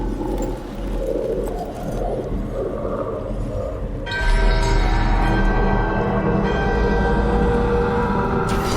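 A ritual bell rings out in the fantasy game Dragon Age: The Veilguard, a bright sustained metallic tone that swells in halfway through over a dense droning ambience with bird-like calls, loud and close, with no talking.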